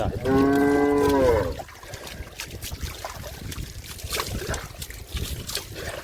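A single loud, close cow moo lasting about a second, followed by quieter splashing and rustling as cattle are bathed in a village farmyard.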